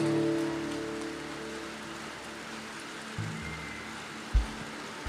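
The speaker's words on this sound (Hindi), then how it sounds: "बारिश हो रही है, अब कोई बाहर नहीं जा सकता" Steady rain pours down as a continuous dense hiss of drops on surfaces, with a low rumble early on and a couple of dull thumps later, no talking.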